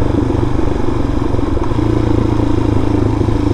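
Suzuki DRZ400 motorcycle engine running steadily while riding, loud and close, with a constant mid-pitched drone and some rattling clatter and no talk.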